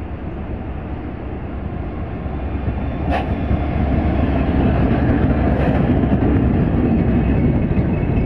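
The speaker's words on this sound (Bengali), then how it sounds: "বের হয়ে যাচ্ছে ঢাকা থেকে বেনাপোল এক্সপ্রেস ট্রেন বেনাপোলের উদ্দেশ্যে রাত 12টা" Benapole Express train pulling out of Dhaka station around midnight, a loud, steady rumble and rattle of rolling carriages that builds slightly, with a brief high squeal partway through and no voices.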